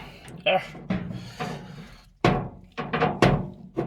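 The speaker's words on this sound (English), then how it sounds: "Lock it back up." A deep gun cabinet holding rifles is shut and locked, with a series of close wooden thunks, knocks and metallic clicks in an irregular rhythm.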